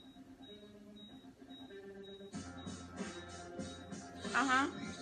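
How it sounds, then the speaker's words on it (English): Electronic beeping like a bomb timer from a television show, a regular high-pitched beep repeating about every half second under a musical score, joined by louder percussive hits midway, with a voice speaking briefly near the end. "Something sounds like a beeping bomb."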